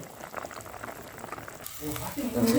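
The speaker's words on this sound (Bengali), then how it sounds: "ঝোল ফুটে সুন্দরভাবে হাফ সেদ্ধ হয়ে গেছে" Fish curry broth made with bata fish bubbles at a steady boil in a pot, a continuous close simmering texture that grows louder and fuller toward the end.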